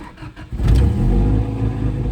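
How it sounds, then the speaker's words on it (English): An Acura Integra engine with an upgraded fuel pump cranks briefly after priming, then catches and fires up into a loud, rumbling idle close by. "So prime it, say 3 times, and then let's fire it up."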